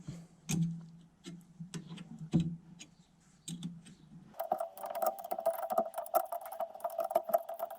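Small metal clicks and ratcheting ticks from a hex tool snugging bolts on a 1986 Audi 5000 Turbo Quattro rear brake, irregular close taps at first, then a quicker steady run of light clicking with a faint whine.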